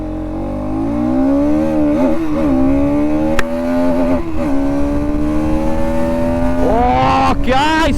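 A 2026 Bajaj Pulsar NS200 BS6 motorcycle with an underbelly exhaust launches and accelerates hard, its loud close engine note climbing steadily through gears with brief dips at each shift.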